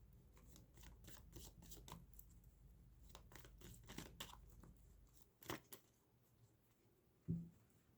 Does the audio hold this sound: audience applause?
no